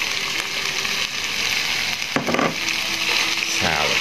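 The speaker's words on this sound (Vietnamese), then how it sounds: "Xào, tiếp tục xào nữa các bạn ơi." Eggplant with minced pork, garlic, chili and green onions stir-fried in a hot pan, giving a loud, steady sizzle with scraping stirs partway through and no speech.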